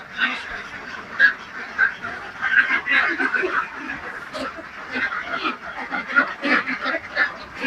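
Ducks at the grower stage on a duck farm quack continuously in a dense, overlapping chorus, close by and fairly loud, with no clear speech on top.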